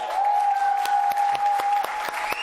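A crowd applauds steadily, with a sustained tone ringing underneath the clapping.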